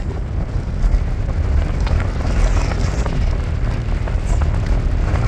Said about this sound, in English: It's pretty windy. Like leaning into the wind to walk straight.